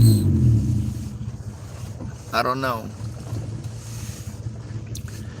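A car engine with a suspected engine mount problem gives a loud low rumble at the start, then settles into a steady droning hum while someone speaks briefly over it.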